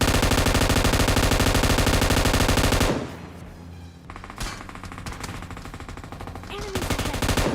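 Rapid automatic gunfire from the battle royale video game PUBG, loud and dense in bursts at the start and end, with a quieter gap of scattered shots and game ambience in between.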